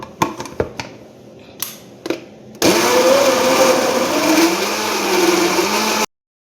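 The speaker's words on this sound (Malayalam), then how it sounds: "ഇനി നമുക്കിത് നന്നായിട്ട് അടിച്ചെടുക്കാം." A loud blender whirs steadily for several seconds after a few brief clicks and knocks, its motor pitch wavering slightly as it chops cucumber with water for juice.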